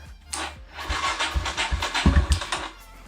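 A Kawasaki KLX140L dirt bike engine runs roughly at idle nearby, its uneven low firing pulses sputtering and surging over about three seconds as though struggling to stay lit.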